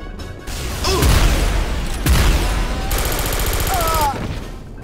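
Gatling-style gun in the PC game Star Trek: Elite Force II firing a sustained, dense roar of rapid shots with loud bursts and ringing electronic tones, continuous and close.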